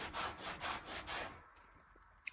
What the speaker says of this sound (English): coming in with some kind of sanding block and making everything nice and smooth